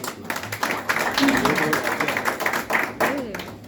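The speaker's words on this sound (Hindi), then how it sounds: "तालियां हो जाए जोरदार।" An audience at a Hindi kavi sammelan poetry gathering breaks into applause, a scattered burst of claps mixed with voices talking over them in a lively hall.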